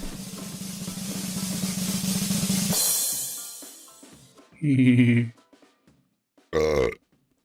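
Two loud, close, guttural belches from a man stand out after a longer stretch of rougher, noisier vocal sound, with short silences between them.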